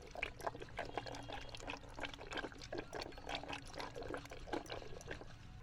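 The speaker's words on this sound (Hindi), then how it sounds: "पानी अपने हिसाब से डालेंगे।" Water is poured steadily into churned curd in a village kitchen, making a continuous close trickling and splashing with small gurgling pulses throughout.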